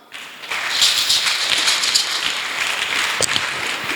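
A church congregation applauds: steady, dense clapping that starts abruptly and carries on close and loud for several seconds without talk.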